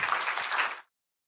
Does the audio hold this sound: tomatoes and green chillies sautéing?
no